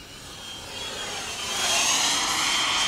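A HSDJETS 120mm EDF T-33 radio-controlled jet on its maiden flight makes a rushing, whining ducted-fan roar that swells louder as the model passes closer.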